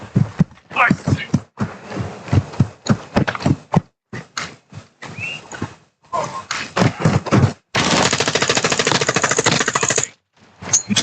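Rapid bursts of automatic gunfire in a Call of Duty online match, punchy shots scattered between excited players' voices, ending in a long dense stretch of continuous firing.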